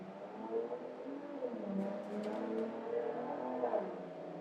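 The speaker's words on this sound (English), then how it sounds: "Motorcycle." A motorcycle engine hums steadily nearby, its pitch rising and falling slightly as it revs.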